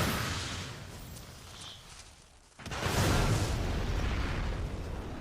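An anime fire-shooting magic attack bursts in with a sudden loud explosive whoosh after a brief dip into near silence, then a sustained heavy roar of flames and rumble that carries on for several seconds.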